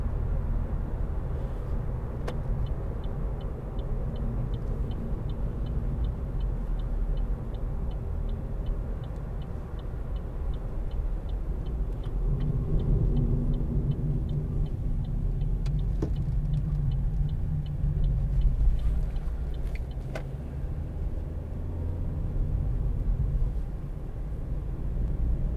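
A 2014 Vauxhall Corsa 1.4i ecoFLEX being driven, with a steady low engine and road rumble from inside the cabin and a faint regular ticking, like an indicator, running through much of the stretch.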